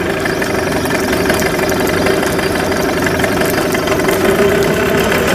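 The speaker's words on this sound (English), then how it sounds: "I have the engine in a bucket in order to start it up to make sure that the impeller is working properly" A Yamaha 9.9 hp outboard engine runs in a water-filled bucket at a steady, loud idle, with an even mechanical drone and a rapid knocking pulse and no break.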